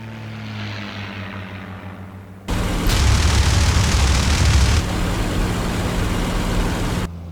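P-51 Mustang fighter planes roar in suddenly overhead, loud and close, propeller engines holding steady for several seconds after a quieter low engine drone.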